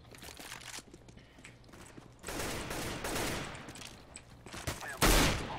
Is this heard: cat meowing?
no